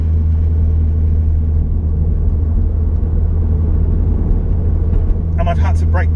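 A Honda Accord CL9 Type S is heard from inside while driving, its engine and road rumble forming a steady, loud low drone, with brief higher sounds near the end.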